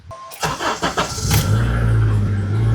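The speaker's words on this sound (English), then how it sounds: "now we'll go ahead and turn on the car" Starter cranks a third-generation Honda CR-V engine, freshly fitted with new spark plugs, in several quick pulses before it catches and settles into a steady, loud idle hum close by.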